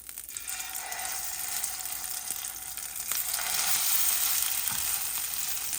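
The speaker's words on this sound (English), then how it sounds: "So just a little bit of oil of your choice, not much, and then just cook a couple of them." Black chickpea veggie burgers frying in a small amount of oil, giving a continuous close, bright sizzle that grows slightly louder, with occasional spatula taps and no speech.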